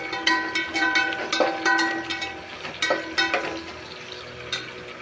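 Slit green chillies frying in a pan with curry leaves for a Kongu-style dish, a soft continuous sizzle broken by sharp pops and clinks of a spoon scraping the pan.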